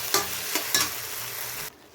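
Gobi Manchurian, fried cauliflower with garam masala and sauce, sizzles steadily in a pan, with a few scraping stirs on top; the hiss then cuts off abruptly near the end.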